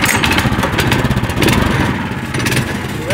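A small engine on an amphibious go-kart 'tank boat' runs loudly and close by, a steady buzzing, lawnmower-like clatter that holds for several seconds.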